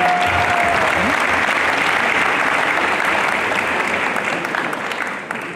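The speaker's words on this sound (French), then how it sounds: "je vous demande de les applaudir très fort" A large audience at a French business event applauds loudly and steadily, a dense continuous ovation that eases slightly toward the end.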